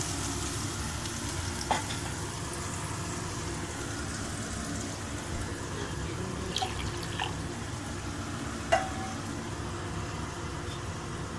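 Quiet, steady sizzling and bubbling of masala in a pan as water is added for paneer gravy curry, with a few soft clinks of a utensil, continuous and close.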